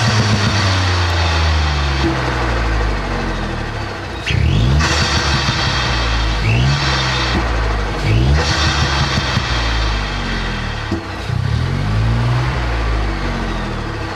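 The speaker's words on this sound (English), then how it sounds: "I'm going to do a couple of revs so you can hear the induction kit from engine side." A Ford Fiesta ST Mk8 with an induction kit revs repeatedly from idle, each blip rising and falling in a rhythmic series of throttle stabs with a prominent intake sound, heard up close.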